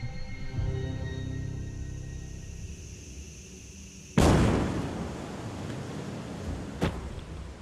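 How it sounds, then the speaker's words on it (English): A SpaceX rocket booster explodes during a nitrogen system pressure test: after a low rumbling hum, a sudden loud blast erupts into a long roaring wash of noise, followed a few seconds later by a second sharp bang. "When we were pressing the nitrogen system, we had an explosion that took out the rocket"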